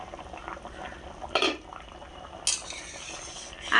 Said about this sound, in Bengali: ডিম সেদ্ধ হয়ে গেছে